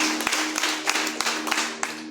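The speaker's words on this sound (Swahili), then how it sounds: "Pigia Yesu tena makofi mazuri." Church members clap steadily in a crowded hall, producing a dense, bright wash of hand claps with regular louder beats, close and energetic, over a low humming tone.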